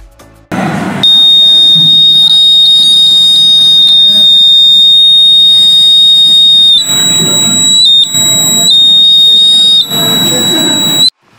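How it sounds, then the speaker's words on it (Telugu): A homemade fire alarm built from a tubelight starter sounds its buzzer, a loud continuous high electronic tone that holds steady for about ten seconds with a few short dips and breaks, over faint background noise. "చూశారు కదా బజర్ అయితే మోగుతుందో"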